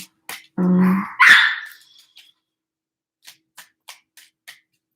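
An upset dog gives a loud, close bark that trails into a whining cry, followed by a few faint clicks and taps in otherwise quiet surroundings.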